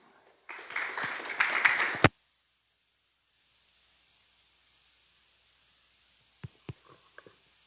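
A congregation at an evangelical evening church service in Taguaí-SP bursts into applause, a dense wash of clapping lasting about a second and a half before cutting off sharply, followed by near-silence with a few faint, scattered clicks.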